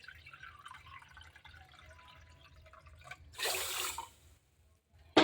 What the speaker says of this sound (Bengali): এই একই বাটি দিয়েই আমি 2 বাটি জল দিয়ে দিলাম।